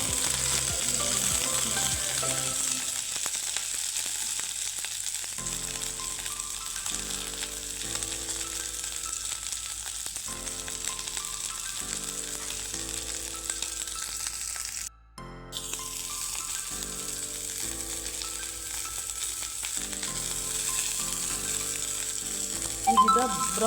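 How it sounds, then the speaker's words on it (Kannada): Cauliflower and potato for gobi aloo fry in a pan, a continuous loud close sizzle and crackle of oil with occasional stirring, while background music plays steadily underneath. "ಸ್ವಲ್ಪ ಬ್ರೌನ್ ಕಲರ್ ಆಗುವಷ್ಟು ಫ್ರೈ ಮಾಡ್ಕೊಳ್ಬೇಕು"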